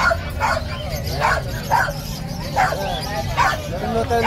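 White male puppies, five and six months old, bark and yip in short repeated bursts at a pet market in Bulacan, close and fairly loud over a busy background.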